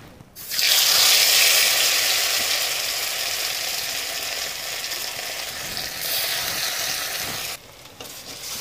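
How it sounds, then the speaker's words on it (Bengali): Potatoes drop into hot mustard oil in a wok and burst into a loud, steady sizzle that settles into continuous crackling hiss for several seconds, close and alone. "আলুগুলো এখন আমি ভেজে নেব। তার কড়াইতে দিয়ে দিয়েছি সর্ষের তেল,"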